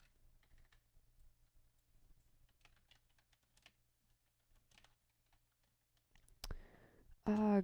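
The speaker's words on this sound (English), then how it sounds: "I didn't finish typing that" Quiet, scattered keystrokes on a computer keyboard, irregular bursts of soft clicks over a faint low hum, followed at the end by a louder noise and a voice.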